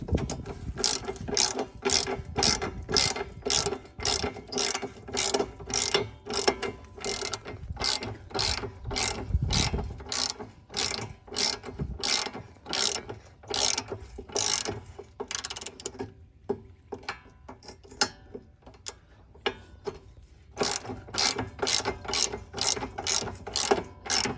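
A ratchet wrench loosens a bolt on BC Racing coilovers, clicking in rapid repeated bursts of strokes with short pauses between them, close and clear, with no talk.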